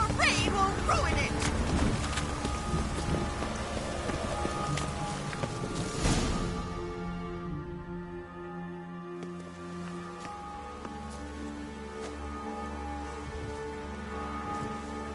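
Steady rainfall in The Witcher 3 video game, a hissing wash that thins out midway while game voices and ambient score carry on over it.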